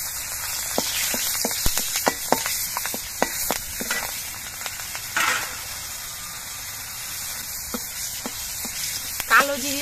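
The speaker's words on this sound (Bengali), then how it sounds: "এবার এই তেলের মধ্যে দিচ্ছি অল্প করে একটু কালো জিরে, আর দিচ্ছি 2টো চেরা কাঁচা লঙ্কা" Black cumin seeds and two slit green chillies sizzling in hot oil, a steady crackling fry punctuated by sharp pops and spatters, close and fairly loud.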